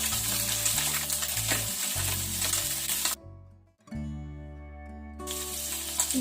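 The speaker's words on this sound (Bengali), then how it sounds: "এবার পুঁটি মাছগুলো ভালো করে লাল লাল করে ভেজে নেব" Small puti fish fry in hot oil, giving a steady crackling sizzle that runs throughout, with a brief quieter dip midway and a faint tonal hum underneath.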